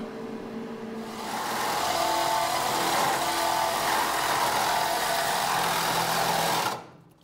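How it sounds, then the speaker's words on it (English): A power saw cuts across the top of the metal body of a 1957 Chevrolet Bel Air: a steady, loud, high-pitched buzzing whine that runs without a break for about six seconds, then cuts off abruptly. "But I might just take the saws already across the top."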